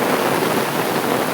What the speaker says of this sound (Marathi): आवाज बघा मंडळी पाण्याचा.